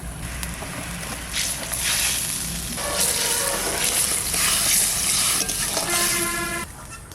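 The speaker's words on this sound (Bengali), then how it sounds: "জলটা খুব সুন্দর জাল হয়ে গেছে" Water boiling hard in a pot for hilsa curry with fresh garden vegetables, a steady close bubbling and hissing roar that holds throughout with no talk.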